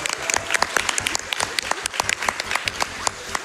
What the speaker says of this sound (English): can we get a round of applause for Curtis